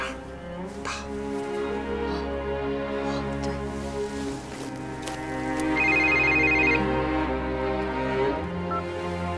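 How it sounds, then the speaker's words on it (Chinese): A telephone ringing on an outgoing call in a drama scene, tonal rings repeating over a bed of sustained background music. "你先给兰博打个电话"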